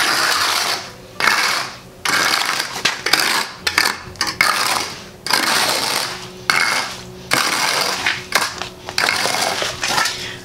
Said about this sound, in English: I'm just gonna scrape it out